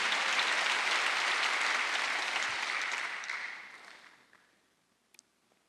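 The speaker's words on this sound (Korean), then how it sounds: "스스로 속이면 안 되는 걸 믿는 사람만 박수하세요." A church congregation at a Wednesday worship service breaks into sustained applause, loud and even at first, then tapering off to a few last scattered claps.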